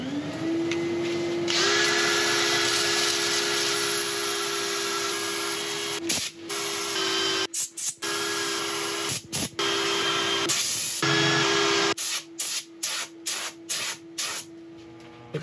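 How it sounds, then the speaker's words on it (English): Power sander working over a turned piece of yew wood with cardboard honeycomb and resin, a loud steady whine broken by several brief stops and restarts toward the end, with no talking. "I think I'm going to set up for sanding."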